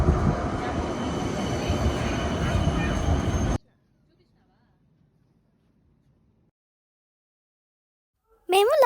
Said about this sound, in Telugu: వచ్చేసింది ట్రైన్, చూడండి